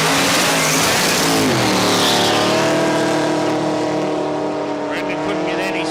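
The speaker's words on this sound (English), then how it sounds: "Blazed the tyres about 60 foot all it. And that was the end of that run." A drag race car spins its tyres down the Palmyra Raceway strip, a loud, continuous engine roar with steady rising harmonics held for several seconds, close and dominant throughout.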